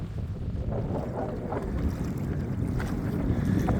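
Steady roaring wind buffets the microphone while whitecap waves on Clear Lake slosh and churn nearby, a continuous rough rush with no voices.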